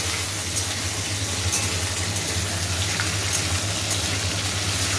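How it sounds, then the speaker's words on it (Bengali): Potatoes frying in oil with black cumin tempering make a steady, loud sizzle throughout, with a constant low hum underneath. "কালো জিরে ফোড়ন দিয়ে আলুগুলো দিয়ে দিলাম, এটা ভালো করে ভাজা হোক।"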